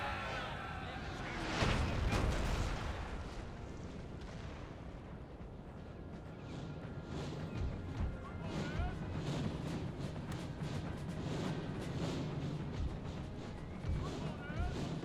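Heavy booming artillery cannon blasts in Napoleon: Total War, repeated and overlapping with crashing impacts, dense and loud throughout with a burst near the start.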